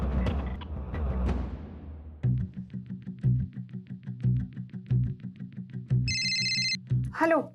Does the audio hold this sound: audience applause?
no